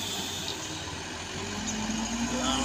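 A truck engine on the trans-Sumatra road toward Aceh drones steadily up close, its mid-range tone rising gradually in pitch as it accelerates, with no break in the continuous sound.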